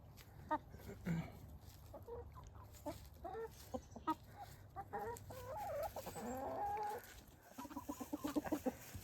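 A small backyard flock of hens with one rooster clucks busily over a treat of beet greens and carrot tops, close, overlapping calls and a drawn-out squawk rising above a steady outdoor hum.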